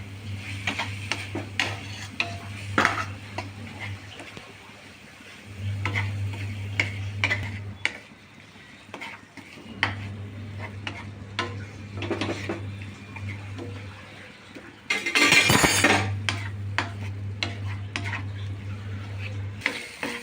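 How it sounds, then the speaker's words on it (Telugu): Chopped fenugreek leaves frying in a pan for Karnataka-style menthi rice, stirred with repeated scraping taps and clicks over a steady low hum, with a louder burst of clatter midway. "ఈ మెంతాకు బాగా పచ్చివాసన పోయేంత వరకు బాగా కలబెట్టుకోవాలి."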